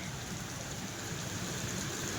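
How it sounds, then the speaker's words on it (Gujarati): Steady rain falling during a continuous downpour under a government weather alert, a soft even hiss that stays constant throughout with no voices. "વરસાદ જોવે છે"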